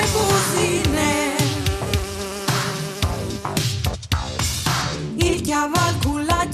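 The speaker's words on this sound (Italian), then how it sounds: "In te chiase di catine e une mosche che busine." A fly buzzing sound effect plays as a continuous, loud, dense drone full of busy, fluttering texture that never lets up.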